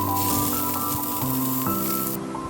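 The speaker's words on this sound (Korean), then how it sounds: "오일 두른 후라이팬에 양파를 먼저 볶아줍니다." Sliced onion fries in an oiled frying pan with a continuous, fairly loud sizzle. Light background music plays along underneath.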